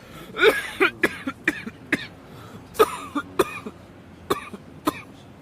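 A series of short, sharp coughs, roughly a dozen spread irregularly, some in quick pairs, close and fairly loud with quiet between them.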